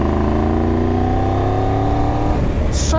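The triple-cylinder engine of a Triumph Tiger 1200 GT Pro motorcycle pulls hard from low revs in fourth gear, a loud, smooth rising growl heard close from the rider's position, with a brief shift near the end.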